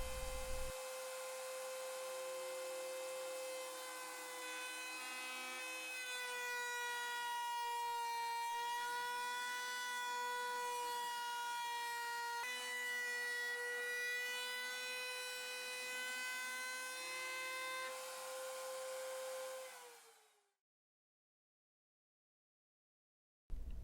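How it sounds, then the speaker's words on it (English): Router cutting the top purfling ledge as an acoustic guitar body is fed past it, a loud steady high whine held for about twenty seconds before spinning down and stopping. "as I move the guitar body past the router"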